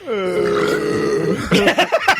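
A long, loud, drawn-out burp rumbles for over a second, followed by a few short bursts of voice.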